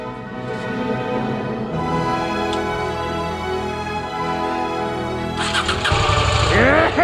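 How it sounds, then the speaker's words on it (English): An adventure motorcycle engine being started: a cranking starter whine, then the engine catches and revs loudly up close, with a squeal at the end. "would be able to start his bike today"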